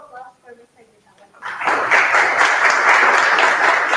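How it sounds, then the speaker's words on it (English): Audience applause breaks out after a conference talk at PyCon APAC 2024, a short stretch of speech giving way to sustained, dense clapping from a seated crowd that stays loud to the end. "And once again, a round of applause for Mr. Gisela."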